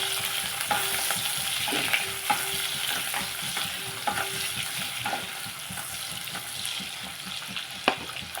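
Dried prawns fry in a pan for an egg and dried prawn curry, a steady sizzle running throughout with scattered scraping strokes of a spatula, close and moderately loud, with no talking.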